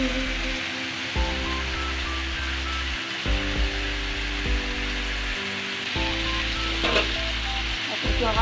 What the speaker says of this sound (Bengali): এখন এদিকে মাছ দিয়ে দিবে বাইলা মাছ